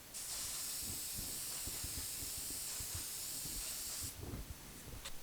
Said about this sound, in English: Spray glue the back of that piece of paper.